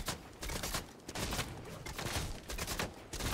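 An assault rifle is fired in sustained rapid bursts in Fortnite, a dense, loud, close stream of gunshots that continues almost without pause.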